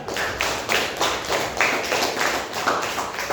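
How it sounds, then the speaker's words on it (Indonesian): Classroom clapping from students, rhythmic group claps in a quick repeated pattern, close and fairly loud, with no talking over it. "tepuk tangan untuk kita semua"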